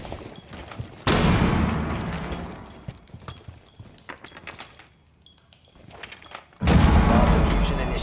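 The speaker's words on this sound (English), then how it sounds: "Firing shotgun! Throwing flashbang!" In Rainbow Six Siege, a shotgun fires and a flashbang goes off, heard as two loud, harsh bursts some seconds apart, with quieter clattering and rustling in the gap between them.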